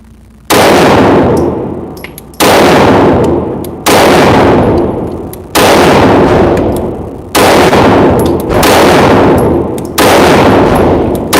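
Seven loud, booming handgun shots fired at 7 yards on an indoor range, spaced roughly every one to two seconds, each with a long reverberant decay filling the enclosed space.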